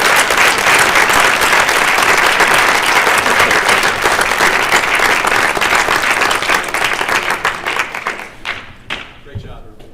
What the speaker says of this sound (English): So how about a nice round of applause for these?